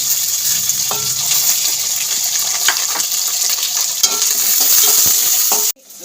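Loud, steady bright sizzling of fenugreek, shallots, garlic and green chilli frying in a pan, with frequent spoon scrapes and clinks over it, then an abrupt drop near the end.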